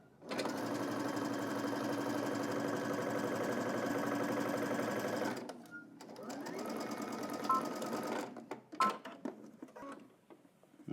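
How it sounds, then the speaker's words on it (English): Sewing machine running a regular straight stitch down a jumpsuit seam to the hem, a steady fast mechanical chatter for about five seconds that then slows into short intermittent bursts and clicks, heard alone and close. "now continue all the way down to the hem using a regular stitch"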